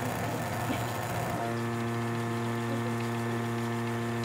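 A dental lab vacuum pump starts up and settles into a steady mechanical hum with a strong low drone, running continuously without pause.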